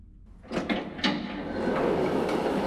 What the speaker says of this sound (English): now we can open up this door.